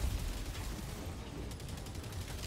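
Explosions and gunfire from the video game Helldivers 2 fill a continuous, loud, rumbling battle din with booming low-end and repeated rapid crackling shots, heard alone without speech.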